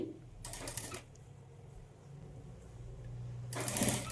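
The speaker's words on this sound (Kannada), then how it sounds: "ಇಲ್ಲಿ ನೀವು ರಫ್ ಸ್ಟಿಚ್ ಹಾಕ್ಕೊಂಡು ಸ್ಟಿಚ್ ಮಾಡ್ಕೊಳ್ಳಿ" A sewing machine runs in two short bursts while stitching a blouse puff sleeve, quiet whirring runs at the start and end with a soft low hum between.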